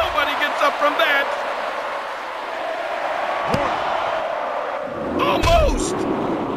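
Video game crowd in WWE Mayhem, a Bray Wyatt versus The Miz wrestling match, roaring steadily throughout with swells near the start and end, mixed with thuds of slams and in-game commentary.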